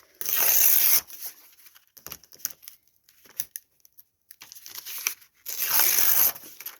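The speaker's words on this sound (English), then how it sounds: "So I'm just going to tear it down a bit." Paper pages of a handmade no-sew booklet being torn by hand: two loud, ripping tears at the start and end, with quieter crinkling and handling rustles in between.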